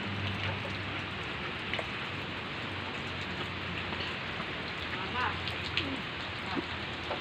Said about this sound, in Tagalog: lakas na naman ang ulan dito sa amin